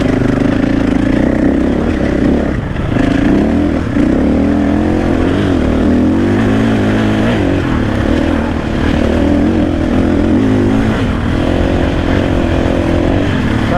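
A 2024 KTM 500 EXC-F enduro motorcycle rides on a rainy trail, its single-cylinder engine droning loud and steady with shifting pitch and rising and falling revs, heard from the rider's position with wind noise.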